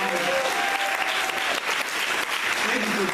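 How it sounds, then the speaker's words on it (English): An audience applauds steadily for newly introduced coaches standing at a large gathering, the clapping dense and sustained throughout. "Give them a round of applause."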